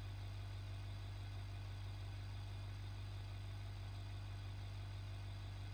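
A 4.5 liter military truck engine idles in a BeamNG driving game, a steady, unbroken low drone with a constant hum and no variation in rhythm, loud and alone throughout.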